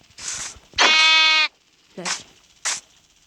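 Sheep in the video game Minecraft bleat in several short calls, one long wavering bleat followed by two brief ones, close and clear, with no talk over them.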